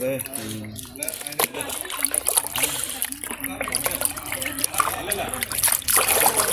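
A hand stirs Bhoomisutha fertiliser powder into a container of water, producing soft sloshing and trickling splashes under steady talk from a nearby man.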